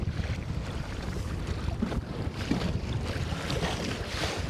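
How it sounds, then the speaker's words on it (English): Strong south wind buffets a kayak on a lake, with steady microphone wind roar and waves slapping and splashing against the hull throughout, no voices. "It's fortunate that we have a south wind, so all the wind is coming from this way."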